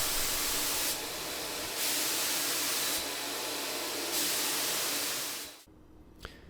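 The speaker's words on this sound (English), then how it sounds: "I spray tinted black shellac to darken and add depth." A spray gun hisses out tinted black shellac over a wooden Shaker bench in several long, loud bursts separated by short pauses, then cuts off to near silence.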